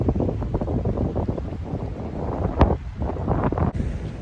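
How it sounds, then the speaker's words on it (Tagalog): Steady wind buffets the microphone outdoors on a man-made island, gusting unevenly in low rumbling rushes with a brief sharp knock partway through. "Sarap ng hangin dito."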